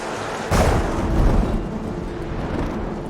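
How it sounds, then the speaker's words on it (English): A sudden loud crack of thunder rolls into a long, deep rumble over a constant hiss of rain. "The storm's getting worse."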